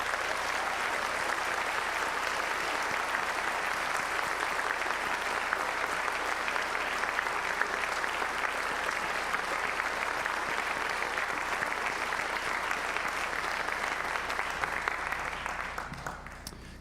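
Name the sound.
audience applause for band seniors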